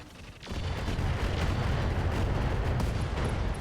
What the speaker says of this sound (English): Kaboom. Streak SRM ammo explosion.